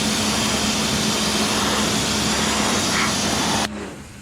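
A pressure washer gun sprays the chain of a KTM 1290 Super Adventure motorcycle, a loud, steady hiss over a motor hum that cuts off abruptly near the end.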